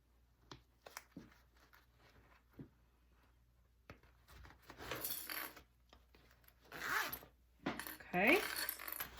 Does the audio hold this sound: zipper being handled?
yes